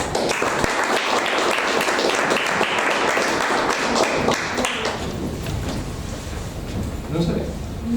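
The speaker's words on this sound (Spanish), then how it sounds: "Un fuerte aplauso, por favor." An audience at an Asturian language day event in Madrid breaks into applause that stays dense for several seconds, then thins out under low rumbling and handling noise.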